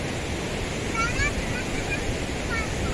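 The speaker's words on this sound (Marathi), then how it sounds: "खाली पाण्याचा पण आवाज मस्त येतो" Water rushing below a dam at Vandri Lake, heard as a continuous broad roar mixed with gusting wind buffeting the microphone, steady and close with faint whistling tones.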